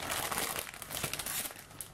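A plastic bag holding sprues from a MiniArt 35561 European railway track model kit is handled, giving close, quiet, continuous crinkling and rustling with small crackles.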